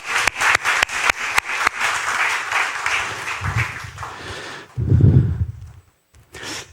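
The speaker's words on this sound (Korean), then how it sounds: "다시 한번 박수로 축복하겠습니다" A church congregation claps in rapid, sharp bursts, loud and close, with some rustling and low thumps. The clapping thins out and stops near the end.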